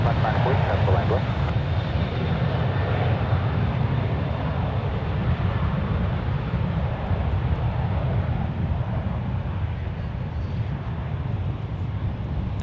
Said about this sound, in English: That was Delta Connection Flight 134 Lima, departing to Seattle.